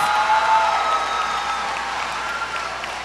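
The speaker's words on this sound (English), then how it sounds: "Please give a round of applause for our honored graduates." Steady audience applause fills a high school graduation ceremony honoring graduates, a dense wash of many hands clapping at an even level for about three seconds with no talk over it.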